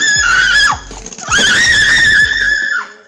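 A woman screams repeatedly and shrilly while fleeing a bear, two long piercing cries broken by a short gap, loud and close.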